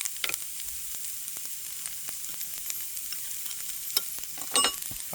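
Oyster mushrooms sizzling and browning in a hot pan for teriyaki, a steady crackling fry with sharp pops and occasional scrapes of stirring, close and clear.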